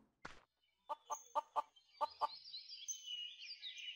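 Chickens in the online game Mabinogi give a run of short clucks, about seven quick evenly spaced calls close by, followed by a softer continuous higher chatter, with no talking.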